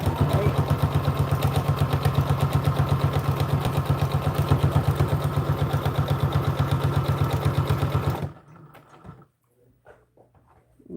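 A sewing machine stitches an American Girl doll dress in a loud, steady, rapid mechanical run that stops abruptly, followed by faint handling sounds.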